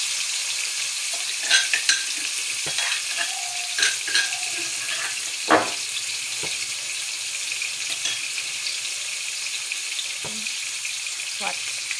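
Garlic and onion fry in butter in a pan with a steady, bright sizzle throughout, broken by a few soft clicks and scrapes of stirring.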